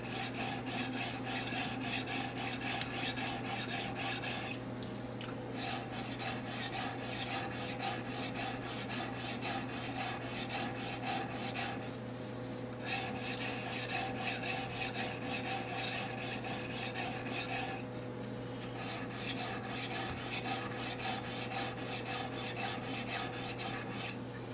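A blade is stroked back and forth over sharpening stones in a steady rasping rub, close and continuous with a few short pauses, under a constant low hum and no speech.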